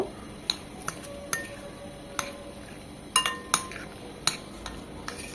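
A spoon clinks against a bowl while Thai soup ingredients, including black pepper powder and two egg yolks, are mixed together; scattered sharp taps and scrapes come at an irregular pace, close and fairly quiet, with no talking.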